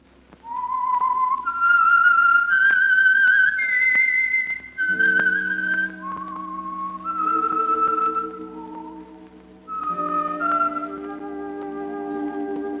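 A lone person whistles the eerie theme of the old radio mystery program The Whistler, a slow, clear melody of held notes that rises and falls, loud and close with no talking.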